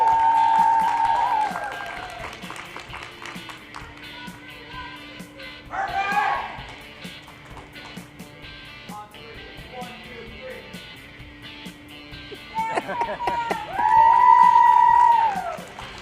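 Bowling crowd at a bowling showcase event giving a cheer in brief bursts, one swell and a louder one near the end, with talk and background tones in between.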